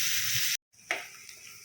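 Coarsely ground spice masala, pounded in a mortar, fries in a pan with a bright, close sizzle, which breaks off briefly before a softer frying crackle returns.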